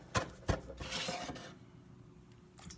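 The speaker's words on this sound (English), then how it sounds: "Take my knife, remember working against your knuckles, and give this a good coarse chop." Cilantro chopped coarsely with a knife for guacamole: two sharp close knocks of the blade on the board, then a brief rough scraping and soft taps before it falls quiet.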